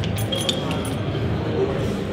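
A brandy-barrel-aged Russian imperial stout bottle and a glass clink and rattle against each other as they are handled for pouring, with light glassy chinks over a steady background hiss and people talking nearby.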